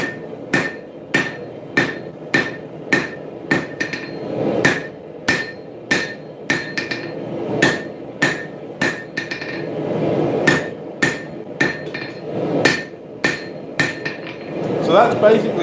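A hammer forges a distal taper into a steel dagger blade, ringing out a long run of sharp, evenly paced strikes on an anvil, loud and close, with only brief pauses between blows.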